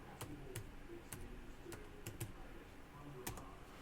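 Quiet, close clicking of a computer keyboard as a hashtag is typed, with about eight sparse, irregular keystrokes over a faint background hiss.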